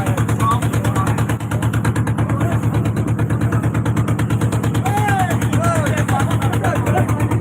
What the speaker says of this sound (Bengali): মাদলা নদীতে নৌকা ছুট হচ্ছে টু সিলিন্ডার ইঞ্জিন সাতটা বোট